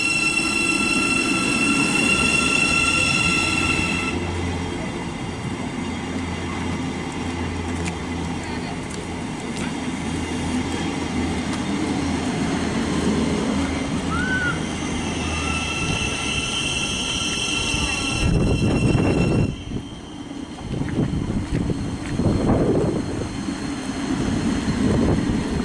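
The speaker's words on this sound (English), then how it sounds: "departing now is the 700 heading over" A German-built Class 700 electric train pulls away from St Albans City station toward the siding with a steady loud rolling rumble, brief wheel squeals and a sharp clatter near the end, heard close with no talk.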